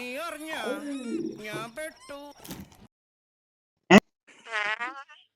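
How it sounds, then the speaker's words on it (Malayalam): After someone speaks, a sharp burst and then a short, buzzing fart sound ring out, followed by a brief silence. "അതൊരു വളിയല്ലേ പോയേ"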